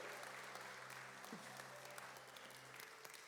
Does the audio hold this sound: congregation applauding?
yes